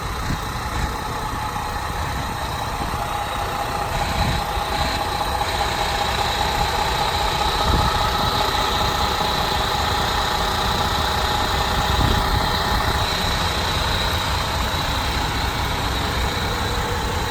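A 2014 International Prostar Daycab truck with a manual 10-speed idles steadily, its loud, even diesel rumble and rattling vibration continuous and close throughout.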